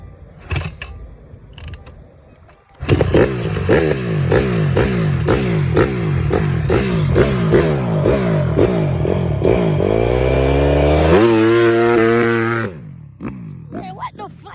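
Honda CRF150R dirt bike engine starts after a quiet lead-in, then runs with a rough, rattly idle and repeated revs climbing higher before cutting off suddenly, loud and close.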